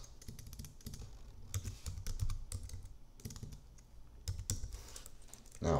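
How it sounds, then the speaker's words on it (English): Typing on a computer keyboard, a steady run of close, crisp key clicks with uneven rhythm and a louder burst near the end. "let's type in fitness"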